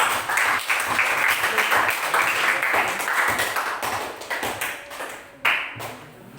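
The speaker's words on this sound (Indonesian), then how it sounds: "Oke, tepuk tangan dulu." Classroom group applauding during a biology lesson on DNA, a steady dense patter of many hands clapping, punctuated by a few sharper taps and a louder burst near the end.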